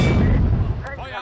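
A tank cannon firing an APC-BC shell at a BT-7 in a WWII Eastern Front tank game: a loud, heavy low-frequency boom that rolls and decays over about a second, with a brief fainter crackle near the end.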